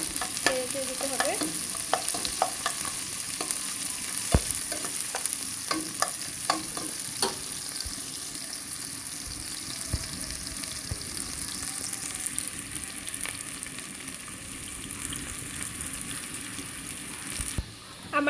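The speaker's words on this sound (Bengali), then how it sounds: "পেঁয়াজটা যতটুকু পর্যন্ত ভাজা হচ্ছে না ততক্ষণ পর্যন্ত আপনাকে এটা ভালো করে নেড়ে দিতে হবে" Onions frying for pulao in a pan, stirred steadily with a spoon, making a continuous close sizzle with repeated scraping and clinking strokes. No voice is heard.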